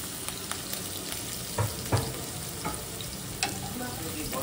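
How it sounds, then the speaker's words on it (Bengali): Onion and green chili hit hot oil for fried rice, giving a steady close sizzle with a few sharper crackles and stirring scrapes as the pan is worked. "তেল গরম হয়ে গেছে, এই যে ভাত ভাজার জন্য পেঁয়াজ আর কাঁচা লঙ্কা দিয়ে দিচ্ছি।"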